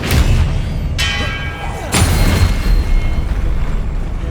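Expelliarmus spell cast in Hogwarts Legacy, a loud bright magical crack with a ringing shimmer, followed by a second burst about a second later, over a dense booming background of combat.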